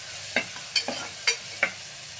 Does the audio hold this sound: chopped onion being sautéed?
yes